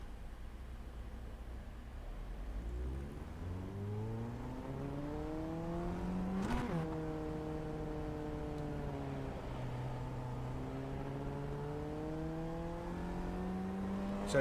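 Formula Ford 1600 race car lapping the Okayama circuit, engine droning steadily from onboard as it revs up through the gears, dips under braking near the middle, then climbs and holds again, loud and continuous.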